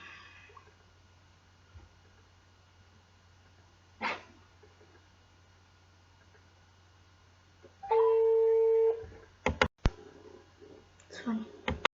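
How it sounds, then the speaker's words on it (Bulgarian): A telephone rings during a call, a steady two-tone ring lasting about a second, followed by sharp clicks and handling noises over a low hum. "Звъни."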